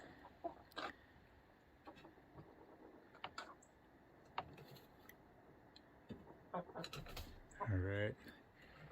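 Backyard chickens settling in to roost for the night at dusk, with scattered soft clucks and small rustles, then a louder, closer burst of clucking near the end.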